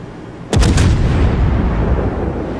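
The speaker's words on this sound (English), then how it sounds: "the battleship's desperate to stop him, so he's trying to shoot him" Battleship main guns fire in the naval video game World of Warships, a sudden heavy salvo of booming shots followed by a long rumbling roar that slowly fades.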